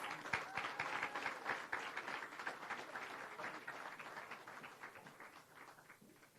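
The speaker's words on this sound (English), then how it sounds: "We can give them another round of applause." Audience applause for a student performance at an outdoor reforestation launch event in Jamaica, fairly quiet and distant, strongest at first then gradually thinning and fading out.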